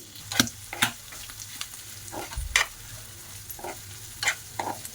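Mutton tripe (boti) fries in a pan, with quiet sizzling broken by a few sharp stirring scrapes and taps, close and with no talking.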